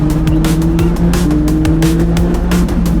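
A Lotus Elise on an Italian alpine pass near Pellio, engine loud and close with rising and falling revs through gear changes as it drives hard along the mountain road.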